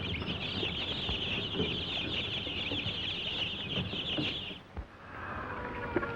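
Hens and chickens cluck and chatter continuously inside a 1930s electrically lit poultry laying house, a dense, moderately distant flock sound with no talk, fading near the end.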